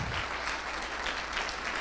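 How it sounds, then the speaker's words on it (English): Audience applause fills an entrepreneur leadership Shark Tank night event, a steady, dense clapping from a crowd that holds at an even level for about two seconds with no talking. "Give him a round of applause."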